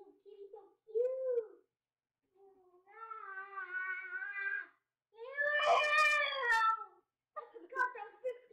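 Cat meowing in a Roblox city game, a series of drawn-out, wavering meows and short mews with gaps between, fairly clear against a quiet background.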